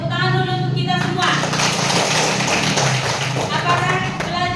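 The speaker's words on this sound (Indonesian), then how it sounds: "tepuk tangan dulu untuk kita semua." A classroom of fourth-grade children claps their hands together in a lesson on animal life cycles, a dense burst of applause beneath an adult voice speaking at the start.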